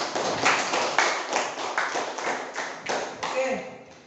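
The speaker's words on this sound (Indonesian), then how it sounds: "tepuk tangan untuk temannya" A small classroom group claps for a classmate in a rhythmic, fairly sparse pattern of distinct claps that fades toward the end, with a voice faintly audible underneath.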